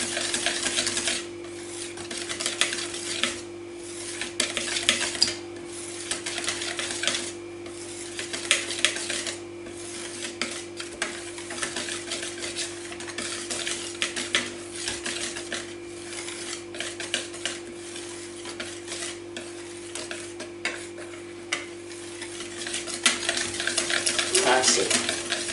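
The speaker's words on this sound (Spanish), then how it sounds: "ahora la harina pues la vamos a mezclar" A spoon stirs flour into apple cake batter in a bowl, with continuous close scraping and swishing that builds toward the end, over a steady low hum from kitchen appliances.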